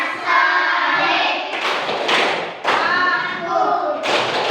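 Children clap their hands in a rhythmic chant, bursts of clapping in a steady beat alongside chanted voices.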